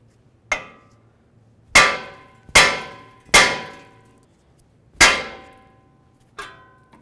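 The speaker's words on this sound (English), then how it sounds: "we're going to take our hammer, we're going to give this a couple loving bonks" Hammer blows on the tie rod end of a 2005-2010 Ford Explorer steering knuckle, six sharp metallic clangs spaced irregularly, each ringing briefly before decaying, loud and close in an otherwise quiet garage.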